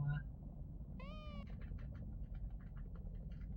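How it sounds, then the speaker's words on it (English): A cat meows once, a clear drawn-out cry from a horror Super Mario World hack video game, followed by soft murmuring voices over a steady low game hum. "Oh, there's a cat now."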